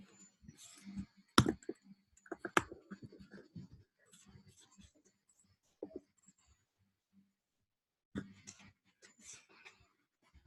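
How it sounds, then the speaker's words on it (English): Notes being written during a class on trading, with scattered quiet scratching and tapping strokes coming in short bursts separated by pauses of near silence. "let me write this down."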